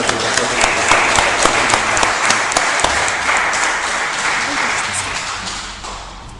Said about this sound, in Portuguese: as palmas do louvor do Senhor